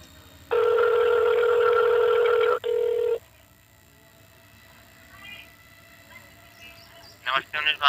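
A telephone call to the 1962 animal helpline number, heard as a long, steady electronic tone followed by a shorter one, then quiet line noise with a few faint chirps near the end.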